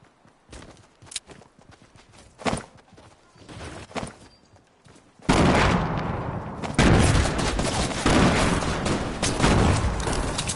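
Gunfire from a video game shootout, first sparse footsteps and hoof-like clopping, then a loud sustained burst of rapid shots and crackling fire filling the second half.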